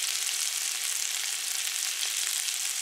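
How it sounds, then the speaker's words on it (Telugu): Coriander, mint, turmeric and kasuri methi frying in a pan, a dense continuous hiss of sizzling oil, close and even throughout with no voices. "ఇవన్నిటిని కొంచెం వేగనిద్దాం 10 నిమిషాలు"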